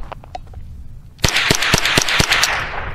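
Rapid sharp gunshots from a Rock Island TM-22 Feather Lite rifle, about seven cracks fired in quick succession at close range, each loud and crisp, following a quieter stretch of faint handling noise.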